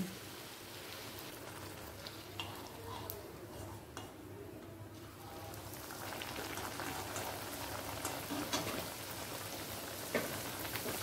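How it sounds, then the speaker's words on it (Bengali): Sattu-stuffed puris deep-fry in hot oil, a dense crackling bubble like rain on a surface that grows a little louder partway through, with brief voice in the background. "একে একে লুচিগুলোকে এইভাবে ভেজে নিয়ে তুলে নেব।"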